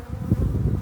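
Honey bees buzz at a hive around the brood box and supers during heather honey collection, a brief close, low droning hum that swells and wavers.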